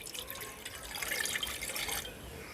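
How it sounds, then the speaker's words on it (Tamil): Water pours steadily into a pressure cooker sitting on a lit stove, a soft continuous splashing and trickle that swells slightly midway and then fades, quiet and close with no talking. "ஒரு டம்ளர் அளவு தண்ணி சேர்த்துக்கலாம்."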